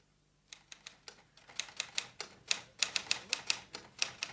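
A manual typewriter clacks close by as statements are copied, with irregular keystrokes that quicken into a busy run of sharp taps, and no talking over them.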